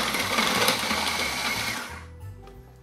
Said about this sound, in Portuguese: nunca imaginei que pudesse desfiar frango no multiprocessador